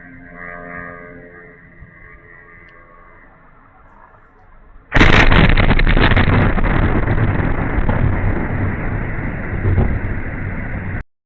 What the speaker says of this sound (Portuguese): houve uma explosão grande lá